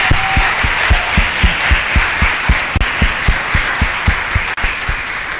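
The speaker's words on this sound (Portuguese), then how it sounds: "Uma salva de palmas aos 40 anos dessa casa." Loud, close audience applause at the opening of a spiritist congress celebrating the 40th anniversary of the house, a dense wash of clapping that falls into a strong, even rhythmic beat of unison claps, with no voices over it.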